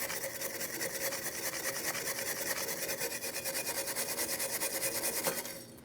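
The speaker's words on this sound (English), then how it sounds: "Go ahead and use a wire brush or some sandpaper" Steady scraping with a fast repetitive rasp as a wire brush or sandpaper scrubs a rear brake backing plate on a 2003-2008 Toyota Matrix, close and continuous for several seconds before easing off.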